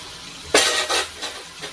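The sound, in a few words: mango gulab jamun balls frying in hot oil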